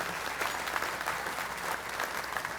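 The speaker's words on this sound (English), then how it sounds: "a round of applause for all of our new members today" An indoor audience at a civic breakfast meeting gives steady applause for new members. The clapping is dense and sustained at an even level, with no voices standing out.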